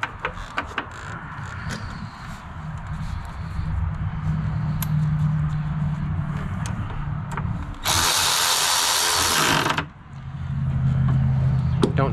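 A power tool driving the bolts of a door check assembly on a Ford Transit, with several buzzing bursts and one loud, sustained whir near the end, close by, with a person talking throughout.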